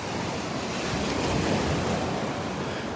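Churned-up ocean surf on the beach at Delnor-Wiggins rolls in a constant, loud, full wash, mixed with wind buffeting the microphone, and no voices.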